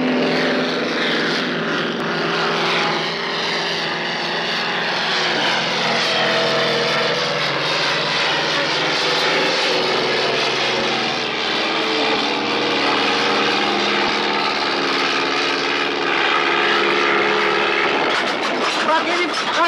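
A propeller airplane drones loudly and steadily overhead for about twenty seconds, its engine whine wavering slightly, with voices in the background of a Turkish comedy scene.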